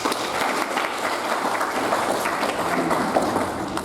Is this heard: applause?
yes